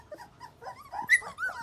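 Twenty-day-old puppies whimper, yip and let out small growls close by in a quick, uneven string of high-pitched sounds.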